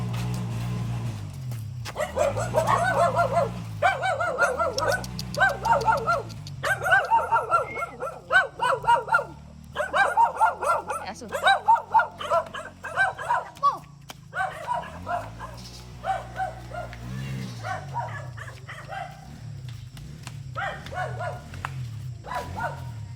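An aspin dog on a walk barks repeatedly in close, loud bursts, its volleys spaced by short pauses over a steady low hum, with occasional voices nearby.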